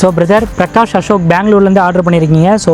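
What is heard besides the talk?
None of the usual background noises is heard.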